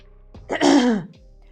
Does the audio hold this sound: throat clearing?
yes